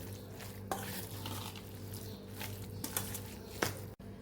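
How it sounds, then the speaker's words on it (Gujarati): Oil being stirred into grated raw mango pickle with asafoetida, soft continuous wet stirring and squishing close up, with a few light clinks of a spoon against the bowl. "તેલને સરસ આપણે મિક્સ કરી લઈશું"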